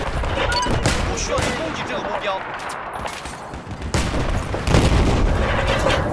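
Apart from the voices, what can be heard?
gunfire in the video game Battlefield 4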